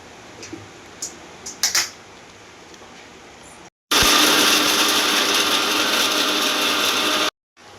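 A few faint clicks and knocks, then a mixer grinder grinding coconut starts with a loud, steady grinding roar that runs for several seconds and stops abruptly.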